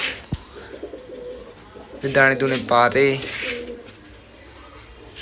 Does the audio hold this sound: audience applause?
no